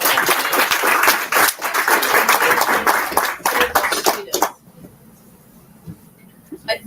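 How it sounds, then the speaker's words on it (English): An audience claps loudly for students at a college launch event, a dense burst of applause lasting about four seconds before cutting off abruptly to quiet room noise. "I think they deserve a round of applause."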